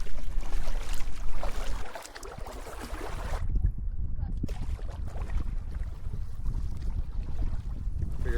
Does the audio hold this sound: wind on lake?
yes